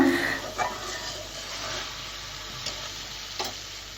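Pepoli greens cook in oil while being stirred, giving a soft, low sizzle with a few light scraping taps of the spoon against the pan.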